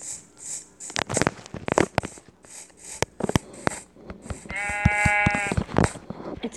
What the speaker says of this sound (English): But the sheep look so cute.